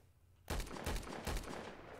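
Enemy gunfire in the StalCraft video game: after half a second of near silence, a sudden burst of shots rings out, followed by rapid, sustained firing with several sharp peaks, loud and fairly close.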